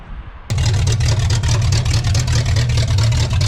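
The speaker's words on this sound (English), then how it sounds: "you're about to hear the first crank of this starter motor on this engine" The 5.7 engine of a 1985 Pontiac Trans Am, unrun for seven years, cranked by its starter motor: a loud, steady whirring churn with a fast pulsing beat that starts abruptly and carries on unbroken.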